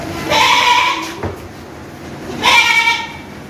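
Goats tied up near a house doorway give two loud, nearby bleats about two seconds apart, with a quiet background in between.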